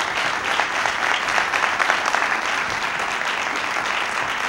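Sustained audience applause fills a board of education meeting room, a dense, steady patter of many hands clapping at even loudness throughout with no voices over it.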